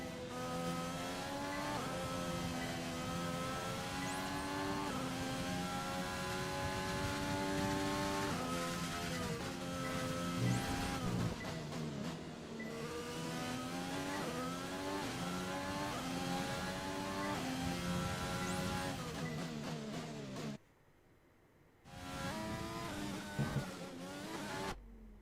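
An F1 2020 race car engine in a video game on the Japan circuit, a loud sustained high-pitched engine whine rising and falling through gear shifts, dropping out briefly near the end, with no talking.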